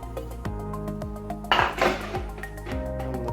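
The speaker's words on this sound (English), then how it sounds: "So we just tip that into a bowl." Sugar and butter tipped into a mixing bowl, a soft scraping thud in the middle, near and alone, with ringing tonal clinks of the bowl around it.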